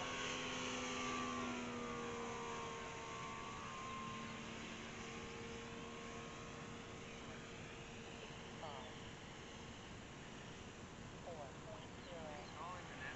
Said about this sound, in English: just a beautiful flying airplane